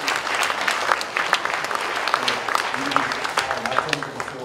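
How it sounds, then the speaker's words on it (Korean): Audience applause at a church book-launch and prayer gathering, a steady dense wash of many hands clapping throughout, fairly loud, with a murmur of voices beneath. "박수 한번"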